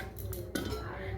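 Dry lentils (dal) tipped into a 3-litre pressure cooker: a brief scatter of small hard grains rattling against metal, close and fairly quiet.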